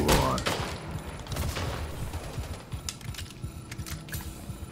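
Rapid gunfire from a battle rifle in the Splitgate shooter, a loud opening burst followed by repeated sharp shots with some clicky keyboard-like sounds underneath, no speech.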